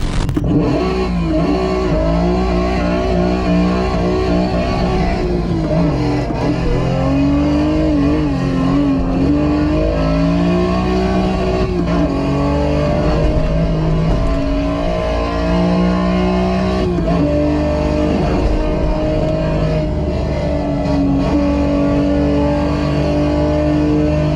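Simulated Datsun Z race-car engine from a full-motion racing simulator rig by Sigma Integrale, loud and continuous, revving up and down through gear changes with shifting whine for over twenty seconds, no talking.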